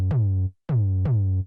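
Three hits of a dry synthesized mono tom drum with no effects, each a sharp attack dropping into a deep sustained tonal boom, spaced with a brief gap, loud and alone.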